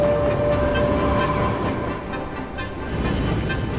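Trains run in the city-building game Cities: Skylines, giving a continuous loud rolling rumble with a faint whistle-like tone that dips slightly midway.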